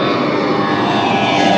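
An airplane climbing overhead after takeoff roars loud and steady, a continuous broadband engine rush that swells slightly toward the end, with no voices over it.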